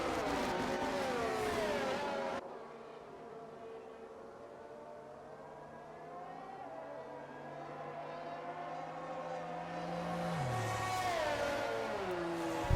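Formula 1 race cars in the F1 23 video game at Japan's circuit, engines droning and shifting pitch continuously as the field runs behind a safety car, with a louder passing surge near the start and end.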